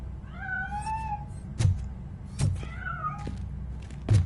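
A cat meows twice in rising, drawn-out calls, close and clear, with a few soft thumps in between and no talking.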